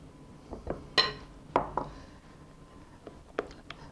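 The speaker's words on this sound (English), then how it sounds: "Mix well to combine." Scattered clinks and scrapes of a utensil against a bowl while melted chocolate is mixed into chestnut cream for a chocolate chestnut Bûche de Noël, a few sharper taps standing out among quieter stirring.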